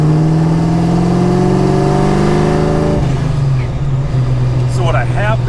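A car fitted with a Vortech YSI centrifugal supercharger accelerates hard, a loud, close engine note climbing steadily in pitch, then dropping at a gear change and pulling again.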